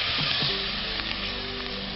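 Chunks of lamb sear in hot oil in a pan, giving a steady, dense sizzle that fills the whole moment up close, with a faint clink or stir near the start.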